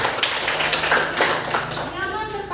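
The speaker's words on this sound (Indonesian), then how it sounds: "Tepuk tangan." Classroom students clap their hands during a mathematics lesson, a short burst of scattered claps with some overlapping voices in the background.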